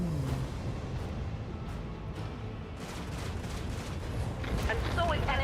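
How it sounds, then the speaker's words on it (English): Micro cannons firing in a space battle in the video game Rogue Trader, a dense rumbling barrage of booming blasts that swells toward the end. "Unleash the storm of micro cannons."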